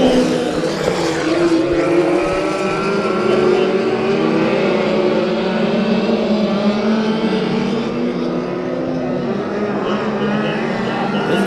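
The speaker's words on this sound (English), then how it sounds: "4 cars in a bunch out of turn number 4" Race cars battle in a bunch out of turn four at Bakersfield Speedway during heat races, a loud continuous engine roar with rising and shifting revs as the pack passes.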